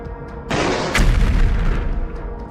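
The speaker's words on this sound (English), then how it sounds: "The T-72 stored rounds cooked off and detonated, producing a massive blast." Stored rounds inside a Russian T-72 tank cooking off in a massive detonation, a heavy booming blast that swells into a sustained deep rumbling roar, loud and distant-sounding, with no voices.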